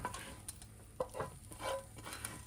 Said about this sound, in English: to this pan here, I'm going to go ahead and add in my rice and my vegetables